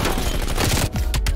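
A C58 assault rifle in Call of Duty Cold War fires a rapid, loud, close burst of punchy shots that runs almost unbroken, with a brief gap near the end.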